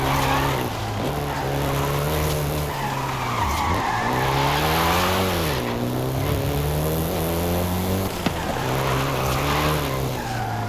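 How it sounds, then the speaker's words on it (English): A Volkswagen Golf GTI driven in the game Forza Horizon 5, its engine droning and shifting pitch as it accelerates and eases off, with tire skidding and squeal running almost continuously over the loud, close engine noise. "including the Golf GTI you're driving right now"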